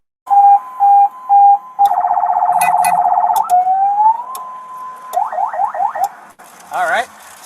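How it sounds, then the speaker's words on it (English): Loud alternating police siren on a fake undercover car: a few short beeping bursts, then a steady two-tone wail that sweeps up, then rapid yelping chirps, close and alone without talk. "alternating siren"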